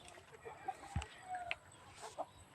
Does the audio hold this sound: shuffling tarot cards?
no